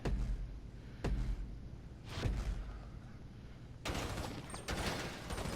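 SMG fire at the bunker shooting range in GTA 5 Online, several quick bursts of game gunfire with sharp cracks and a dense stretch of rapid shots near the end, heard alone.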